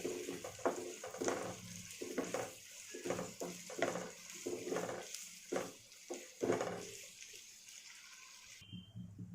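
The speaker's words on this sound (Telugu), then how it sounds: "ఇందులో ఆయిల్ వేసుకొని ఆనియన్స్ ఫ్రై చేసుకుందాం" Onions deep frying in oil in a pan for mutton biryani make a faint, continuous bubbling sizzle, broken by irregular stirring scrapes and soft knocks close by, ending abruptly.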